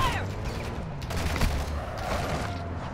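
Bursts of gunfire in the Call of Duty DMZ video game, a steady crackling fusillade with mechanical clatter under low rumbling game ambience, sustained throughout at moderate loudness.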